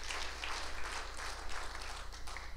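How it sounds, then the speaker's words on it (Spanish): A church congregation applauding together, a steady, fairly loud wash of clapping from a crowd throughout, with faint voices mixed in. "Démosle un fuerte aplauso al Señor."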